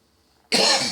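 A single sharp, loud cough bursts out after near silence, close to the listener.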